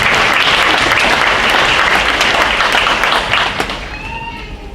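A crowd at an honors night ceremony breaks into loud, dense applause for honor students, many hands clapping steadily before the sound tapers off near the end, with a faint voice or tone emerging as it fades.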